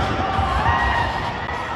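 Spectators at a CrossFit competition cheer and shout in a brief, steady burst of crowd noise, moderately loud and without clear words.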